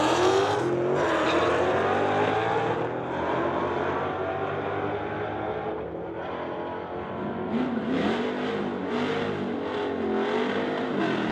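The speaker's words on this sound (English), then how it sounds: "Pit side, we've got a red Mustang. Mustang battle here." A white and a red Ford Mustang drag racing down the strip at a street legal event, engines roaring and revving through gear changes, loud and near with a steady high-powered growl.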